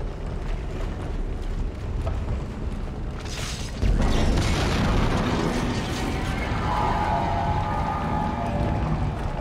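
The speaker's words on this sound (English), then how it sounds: "Why did that vent explode?" A vent bursts with a sudden loud boom in Dead Space, a sharp blast near the four-second mark that gives way to a sustained roaring rumble over dense mechanical game ambience.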